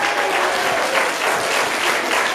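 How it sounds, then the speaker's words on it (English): A large audience at a third- and fourth-grade school math competition gives the superintendent a loud, steady round of applause, dense clapping with no gaps throughout. "One more gigantic round of applause for our superintendent,"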